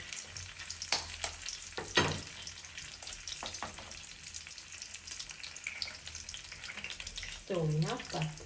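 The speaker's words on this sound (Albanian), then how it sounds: "Tash marrim dhe ja hedhim këto 2 vezë dhe bëjmë si omlet." Two eggs poured over browned sausages frying in a pan sizzle steadily close by, with a few sharp scrapes and taps of a utensil, and a brief voice near the end.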